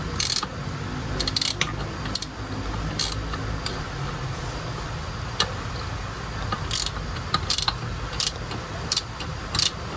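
Clicks and metallic taps from pump pliers tightening the impeller of a jet pump during a shaft seal replacement, a scattered run of sharp near ticks and clinks over a low steady background hum, with no one talking.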